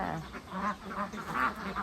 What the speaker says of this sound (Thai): เป็ดสองสายพันธุ์สีขาวนี้เป็ดอี้เหลียงนะคะ